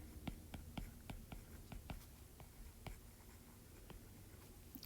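Pen or marker strokes tapping and scratching across a board while math notes are written during a lecture, a steady run of short, quiet clicks roughly every half second, with no talk.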